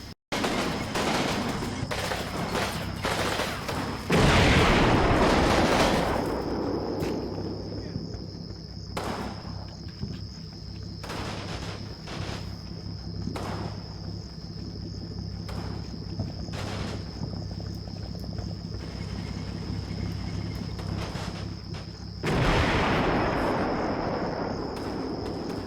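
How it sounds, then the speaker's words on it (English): Battlefield ambience from the Combat Mission game, set in 1945 Berlin, with a machine gun nest and other weapons firing: repeated sharp bursts and cracks spread across a steady noisy background, some louder blasts near the start and end. "I hear another machine gun nest firing over here somewhere."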